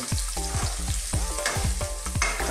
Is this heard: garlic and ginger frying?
yes